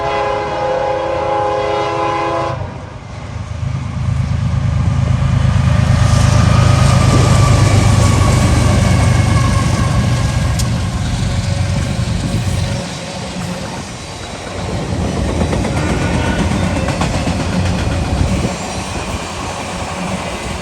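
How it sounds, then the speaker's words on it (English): CSX autorack freight train passing northbound on a sunny day in Carlisle, Ohio, with a loud horn blast at the start followed by a long steady roar and rumble of cars rolling by up close. "a CSX Autorack train flies northbound"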